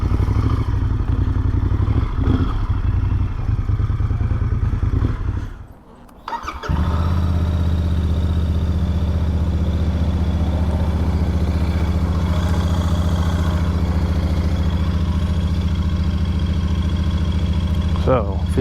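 A 2023 Royal Enfield Super Meteor 650 motorcycle engine idles close by with a steady, low rumbling throb, briefly dropping out before settling back into an even idle, with a person talking over it.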